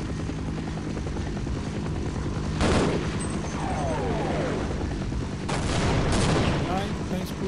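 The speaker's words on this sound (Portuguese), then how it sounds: "Ai, tá explodindo o local." Explosions and gunfire in the Half-Life video game, with sharp blasts rising out of a constant loud helicopter-like rotor drone, a few distinct bursts spaced across the span.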